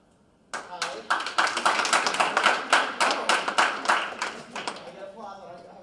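A room at a student government senate meeting breaks into clapping, a small group's sharp, distinct hand claps rising quickly and continuing steadily before tapering, with a voice briefly audible at the end.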